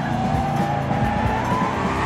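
Stormshadow DH race car in Wreckfest skidding through a corner, a loud engine drone layered with scrubbing tire noise and rapid fluttering pulses, continuous across the brief moment, with no talking.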